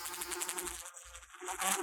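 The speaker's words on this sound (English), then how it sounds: "Nearby, a swarm of flies swirled in a dance" A swarm of flies buzzes close by, a dense, wavering insect drone that swells and dips briefly.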